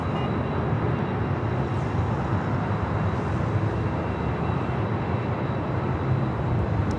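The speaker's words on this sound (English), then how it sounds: "A319 rolling down to 24 left," An Airbus A319 rolls down runway 24 Left at LAX, its jet engines producing a loud, steady broadband roar that holds constant throughout, heard alone without voices.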